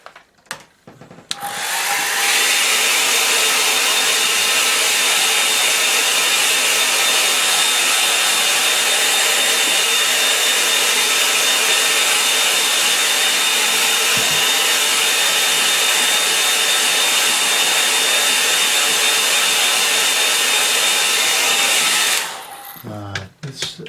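A hair dryer blows over a painting of a dry stone wall on the moors, a loud steady roaring whoosh switched on and left running for about twenty seconds before cutting off, with no talk.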